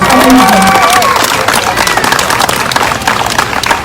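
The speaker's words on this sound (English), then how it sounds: "So another round of applause." Loud crowd applause and cheering at a teachers' and parents' rally in Surrey, British Columbia, a dense sustained roar of clapping with a voice briefly heard over it at the start.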